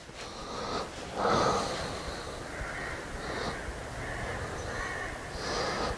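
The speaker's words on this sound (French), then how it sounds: "Ça, c'est un corbeau." A crow caws again and again around the ruins of a destroyed church, harsh calls repeating over steady outdoor background noise, moderately close and with no voices.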